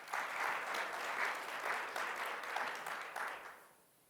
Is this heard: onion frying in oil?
no